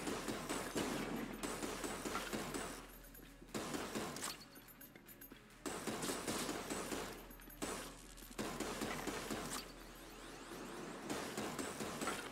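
A shock rifle in Enter the Gungeon fires in repeated rapid bursts of crackling, zapping shots, broken by short pauses, sounding fairly loud and close throughout.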